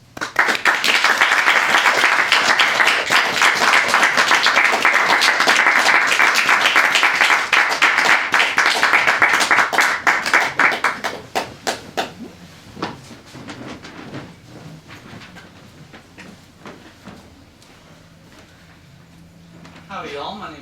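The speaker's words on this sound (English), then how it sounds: "let's give another round of applause, please" Audience at a poetry reading gives a long, dense round of applause that holds steady, then thins into scattered claps and fades out near the end.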